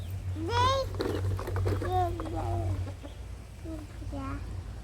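Chickens cluck in short, rising bursts close by, with a low steady hum running underneath throughout.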